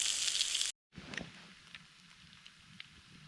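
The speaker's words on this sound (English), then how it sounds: "Bacon and eggs on the ice, cooked over an open fire" Bacon and eggs sizzle over an open fire out on the ice at a winter campsite: a bright, steady hiss that cuts out briefly, then returns softer, with scattered small pops and crackles.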